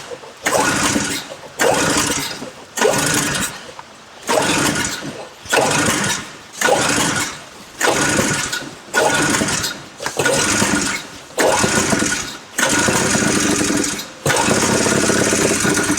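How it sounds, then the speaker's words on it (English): A flooded vintage Yamaha piston-port snowmobile engine pulled over and over. It gives repeated bursts of rough, sputtering, uneven firing that cut off between pulls, with the final attempt holding a longer ragged run. "I hate Yamaha piston port motors."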